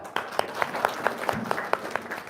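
A small gathering at an Islamic talk claps briefly, with distinct individual claps in an uneven rhythm, fairly close and moderately loud.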